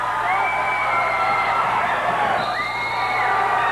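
A basketball crowd at a Malone vs Massena game roars and whoops after a slam dunk, a dense sustained wall of cheering with shrill shouts rising above it.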